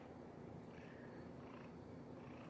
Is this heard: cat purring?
yes